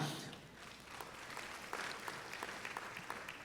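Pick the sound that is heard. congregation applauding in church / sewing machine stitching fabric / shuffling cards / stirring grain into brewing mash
congregation applauding in church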